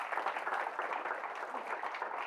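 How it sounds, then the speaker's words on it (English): An audience applauds speakers at a monthly meeting, a steady wash of clapping held at moderate level for a couple of seconds with no voices over it. "give me a round of applause for our speakers"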